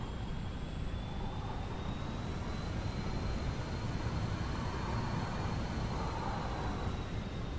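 The jet engines of a British Airways BAe 146 in Microsoft Flight Simulator, on approach to London City, drone steadily with a rising whine layered over a broad rumbling roar, constant and fairly loud, with no voices.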